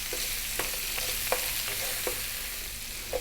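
Garlic and ginger frying in a pan with pork ribs to come, a steady sizzle under light stirring, with a few sharp clicks of a utensil against the pan scattered through.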